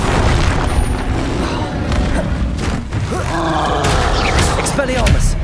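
The Confringo blasting spell in Hogwarts Legacy sets off loud, deep explosive booms with rumbling tails, spreading into a dense, continuous roar of layered impacts and crackling debris.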